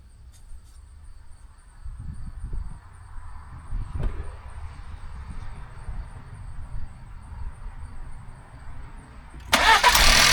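A 2021 Ford Explorer 2.3L engine, just fitted with new spark plugs, is cranked and fires: several seconds of low rumbling cranking, then a sudden loud catch as it starts near the end.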